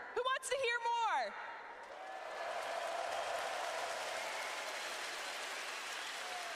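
Crowd at an esports Grand Finals event in Brazil applauding and cheering, a distant, even roar that rises after a short burst of speech and holds steady.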